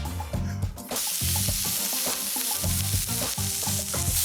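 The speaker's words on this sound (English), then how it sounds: "we're just going to put our chopped mushrooms in, and we're just going to gently cook them on a medium heat" Chopped mushrooms sizzle in oil in a pan on medium heat, a steady bright frying hiss with repeated scraping and stirring knocks, close and continuous after a brief quieter start.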